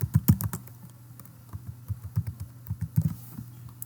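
Fingers tap out a username and password on a computer keyboard, a steady run of close, crisp keystrokes with a few brief pauses, no talking over it.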